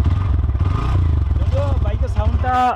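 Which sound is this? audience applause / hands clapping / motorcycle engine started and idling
motorcycle engine started and idling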